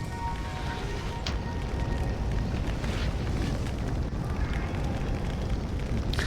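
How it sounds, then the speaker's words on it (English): Wall of fire spell burning in the video game Summoner, a loud, steady roaring rumble of flames that continues throughout with faint crackles and no voice. "Nothing that a wall of fire cannot take care of"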